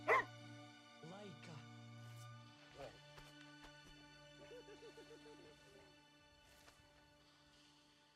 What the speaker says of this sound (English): Oh look, the dog?